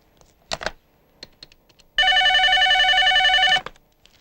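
A telephone gives one loud, steady electronic ring lasting about a second and a half, preceded by a few soft clicks and taps in a quiet room.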